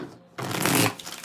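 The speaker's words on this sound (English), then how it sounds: "Let's get 4 shuffles." Tarot cards are shuffled in one brisk riffle, a close, dense rustling burst that quickly fades, with no talking over it.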